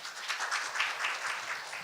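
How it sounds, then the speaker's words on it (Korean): An audience at a community media presentation applauds to welcome a presenter, a brief, dense patter of many hands clapping at moderate volume. "박수로 맞이해 주세요"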